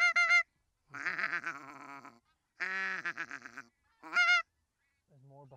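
Geese honk during a goose shoot over decoys, with loud repeated calls in several close bursts separated by brief pauses, some answering calls fainter behind them.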